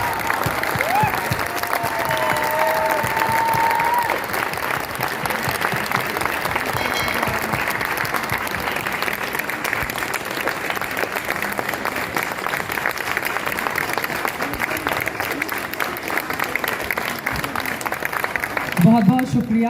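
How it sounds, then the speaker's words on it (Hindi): A standing audience at a TV interview event gives loud, sustained applause, a dense unbroken wash of clapping from start to end, with a voice speaking briefly near the start. "खड़े होकर जोरदार तालियों के साथ फिर से स्वागत है"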